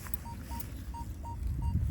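A faint, evenly repeating metal detector signal beep pulses about every third of a second over a low rumble of background noise.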